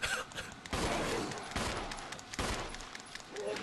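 Repeated gunshots ring out in Resident Evil HD Remaster, several sharp reports spaced roughly a second apart, fairly quiet overall with a noisy, reverberant tail between shots.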